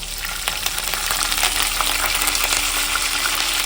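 Cumin seeds and curry leaves fry in hot oil for a bamboo mushroom curry, giving a steady, loud, close crackling sizzle with bright spitting pops that holds throughout without a break.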